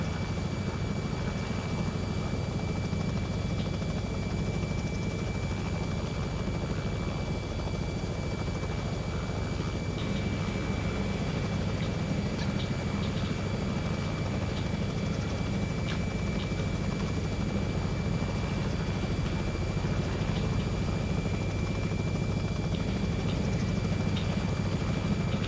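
Robinson R66 helicopter in X-Plane 11 setting down on a helipad at Cape Town, a steady rotor and turbine drone held at constant loudness throughout with a faint high whine on top, no talking.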